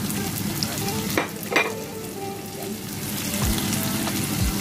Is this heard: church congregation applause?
no